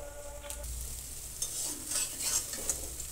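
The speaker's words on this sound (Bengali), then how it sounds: "এবার আমি সবগুলো বড়া উল্টিয়ে নেব, আর লো আঁচে খুব সুন্দর করে ভাজতে থাকবো।" Cauliflower stem fritters fry in oil over low heat: a soft continuous sizzle with a few scraping stirs and light clicks as they are turned, close by and without speech.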